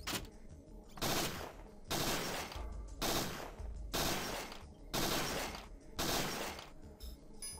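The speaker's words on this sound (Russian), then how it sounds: "по одному патрону лучше стрелять второй раз в оранжевую мишень" Gunfire at targets on a training range in Parasite Eve 2 on PS1, six loud bursts of shots at roughly one-second intervals with brief gaps between, no voices.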